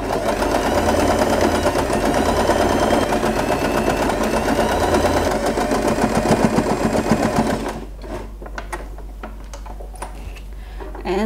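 A sewing machine stitches fabric for a scrunchie in a steady, close, continuous whir for most of the clip, then stops and leaves quieter handling noises.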